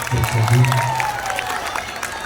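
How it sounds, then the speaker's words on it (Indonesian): Audience applause at a stage science-experiment show, a dense patter of clapping and crowd noise lasting a couple of seconds, with voices mixed in. "Kasih tepuk tangan dong."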